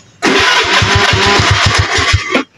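A motorcycle engine cranks and catches with a loud, rapid, chugging pulse that runs for about two seconds, then abruptly cuts out and stalls. It is close and heard alone.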